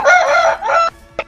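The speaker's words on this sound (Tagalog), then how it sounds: "Gutom na yung manok nyo." A chicken crows loudly and close, one long full crow followed by a shorter second phrase, then a brief cluck, with no talk.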